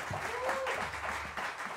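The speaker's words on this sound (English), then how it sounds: "Let's give them a round of applause as well." Applause from a jazz club audience during a live sextet gig, a short burst of steady clapping with a voice briefly heard over it.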